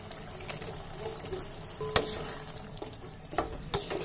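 Goat liver cooking in a pot with half-boiled potatoes, bay leaf, cinnamon and cardamom, a steady low sizzle under scattered utensil scrapes and knocks against the pot, with no voices.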